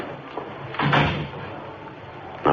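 A door in an old radio crime drama opens and shuts with a couple of solid thumps and clatter, heard close by with no talking over it.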